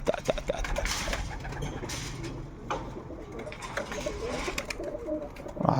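Pigeons at a pigeon tower coo with low, soft, repeated calls amid wing flutters and rustling, close by, with someone speaking briefly.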